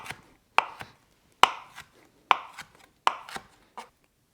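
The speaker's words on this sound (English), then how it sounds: "take your knife and run through a few more times to give that a little bit more of a rough chop" A knife rough-chops fresh basil strips on a cutting board in five clear, evenly spaced bursts, each a sharp blade strike followed by a quick softer tap, close up with no talking.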